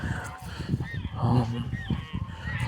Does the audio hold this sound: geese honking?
yes